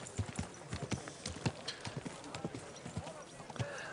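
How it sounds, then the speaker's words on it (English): Horse hooves clip-clop steadily as a horse is ridden in the video game Kingdom Come Deliverance 2, a brisk close rhythm of hoofbeats with a faint background bed and no clear talking. "Is this your first time riding a horse, you moron?"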